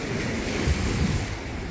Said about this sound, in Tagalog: lakas ang hampas ng hangin ngayon kasi may storm siya na dumaan